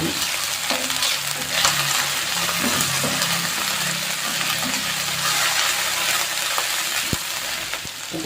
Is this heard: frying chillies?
yes